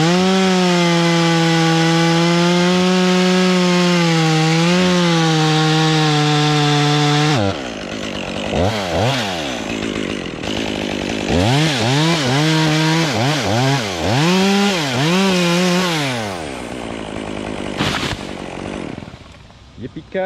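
A chainsaw runs at a steady high whine, cutting the hinge while a tree is topped. It then gives way to creaking, rubbing sounds as the top falls, and a voice talks over the noise.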